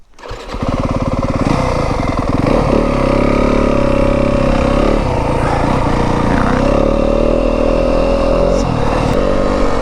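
A Yamaha WR250F dirt bike engine runs loud and close in the Arizona desert just after being stalled, firing up and holding a steady, rough drone for the rest of the stretch.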